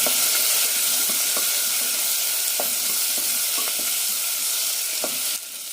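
Chopped onion, green chillies and garlic cloves sauté steadily in a pan of oil for brinjal chutney, giving a continuous close sizzle broken by occasional scraping stirs, with no talking.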